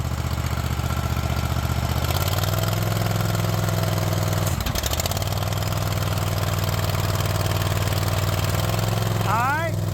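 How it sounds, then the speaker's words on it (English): Engine of a Craftsman Z6400 riding mower running loud and steady nearby, rising in pitch as it revs up with the cutting blades engaged, with a brief clunk partway through. "Now rev it up a little bit and turn the blades on."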